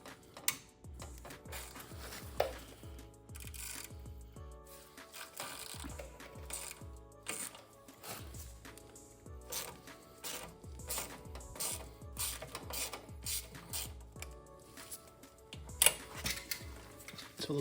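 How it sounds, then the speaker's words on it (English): A ratchet with a T30 Torx bit works loose the carburetor bolts on an Ariens Deluxe 28 snowblower, giving faint, close, rapid clicking in repeated runs over a quiet background. "we'll actually be able to get away with a direct shot on a T30 Torx to remove those"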